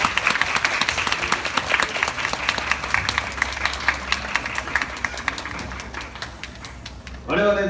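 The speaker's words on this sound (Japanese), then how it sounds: "大きな拍手をお見送りくだされ。" Sustained crowd applause at an outdoor samurai-troupe stage show at Kumamoto Castle's Josaien, a dense wash of many hands clapping throughout before a louder burst right at the end.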